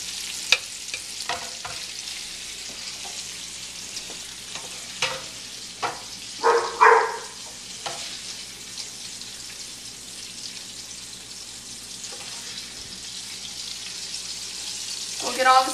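Sausage frying in a pan and being lifted out with a slotted spoon, a soft continuous sizzle under occasional scraping and clinking from the spoon against the pan, with no talking.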